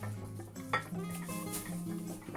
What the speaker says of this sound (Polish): Wysmaruję sobie naczynie